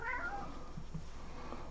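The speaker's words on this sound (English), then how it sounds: "I thought I heard a meow." A cat lets out a single short meow near the start, followed by quiet room tone and faint soft sounds.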